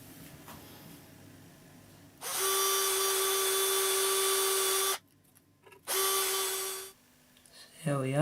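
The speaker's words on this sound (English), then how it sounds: "if I can keep the drill straight enough." A power drill drives screws into a custom Les Paul guitar body in two close, loud bursts, a long steady whine and then a shorter one, with quiet pauses around them.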